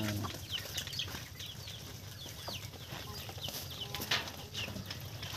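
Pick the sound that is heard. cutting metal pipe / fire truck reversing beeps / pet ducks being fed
pet ducks being fed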